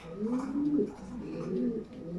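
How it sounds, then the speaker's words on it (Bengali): A pigeon coos in low, rolling, throaty calls, two soft phrases close by, with a faint background hum. "খুব সুন্দর একটা কবুতর"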